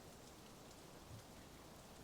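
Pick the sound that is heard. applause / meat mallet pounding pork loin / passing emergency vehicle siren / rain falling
rain falling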